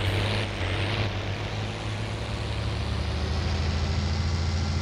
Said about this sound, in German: Oh, der Klang von dem B-Truck ist einfach nur genial.